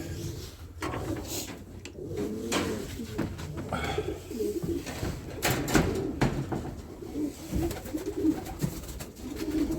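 Pigeons coo repeatedly at close range, with shuffling and a few knocking or sliding noises around them.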